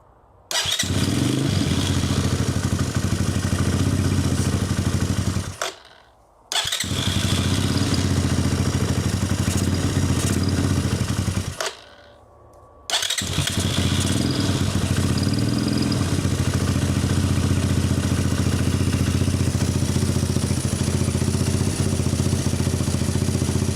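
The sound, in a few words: 250cc Apollo dirt bike engine running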